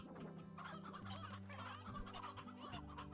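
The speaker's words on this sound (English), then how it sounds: "I do have a lot of chickens" In the video game Slime Rancher, several chickens cluck and squawk in quick overlapping bursts over a steady low tonal background, soft in overall level.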